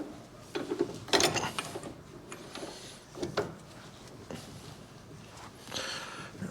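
A wrench tightens a nut on an upside-down offset bracket while fender frame mounts are fabricated for an XLCH chopper. Short bursts of close metallic ratcheting and clicking come at irregular intervals, loudest near the start, with no talk.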